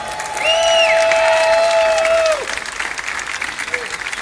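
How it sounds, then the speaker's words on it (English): A crowd at an outdoor tax day protest rally on a courthouse lawn claps in a sustained burst of applause while a loud whistling tone sounds over it, then the clapping continues more thinly. "Give yourself a big round of applause."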